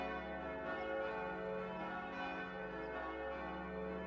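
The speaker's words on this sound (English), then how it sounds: "The bells are going again." Church bells in the Farming Simulator 25 video game peal continuously, layered overlapping tolls producing a dense ringing hum that stays steady and moderately quiet throughout.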